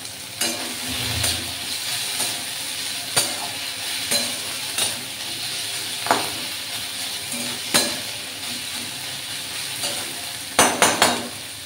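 Chopped tomato sizzles with onion and spices in a pan while being stirred, a steady frying hiss broken by scraping and clinks of the spoon against the pan at irregular intervals.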